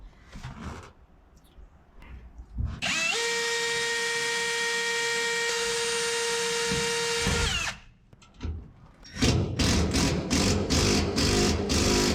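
A power drill runs in a long steady whine of about five seconds as it drives screws into the driver's side interior panel of a 1959 Apache custom truck, then a shorter burst follows after a brief pause, loud and close.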